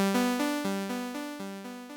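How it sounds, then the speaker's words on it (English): A plucked synth arpeggio repeats in a steady rhythm, each note trailing into echoing delay repeats that smear together, alone with no voices. "it's just like a normal delay kind of sound"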